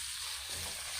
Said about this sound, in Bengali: এবারে পেঁয়াজটাকে হালকা গোলাপি করে ভেজে নেব